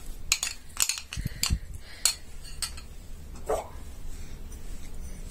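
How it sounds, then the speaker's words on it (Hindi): Chicken gets mixed with lemon juice marinade in a bowl: a spoon clinks and scrapes against the dish in quick irregular bursts, close by, with a soft thud or two between. "इसमें मैं हल्का सा लेमन जूस डालूंगी और चिकन डाल के मिक्स कर लूंगी"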